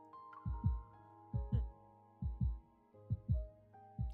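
A heartbeat sound effect in a video game story, deep, close double thumps in a steady slow rhythm, four beats over a soft sustained musical tone.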